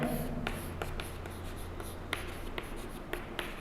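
Chalk or marker scratches across a classroom board in short, irregular strokes with sharp taps between them, over a steady low hum and room noise.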